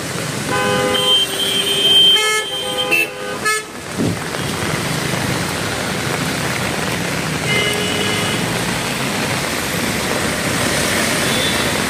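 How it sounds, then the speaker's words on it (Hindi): Heavy rain falls on Bangalore street traffic while car horns honk in several repeated toots near the start and again later, over a steady hiss of rain and engine rumble, with no talking. "फंस गया यार मैं ट्रैफिक में"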